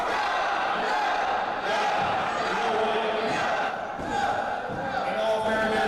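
A wrestling crowd at an indoor show roars and jeers in a sustained, noisy swell, with shouts and whoops rising and falling while someone talks over the din.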